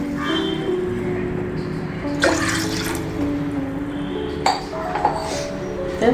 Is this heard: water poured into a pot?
yes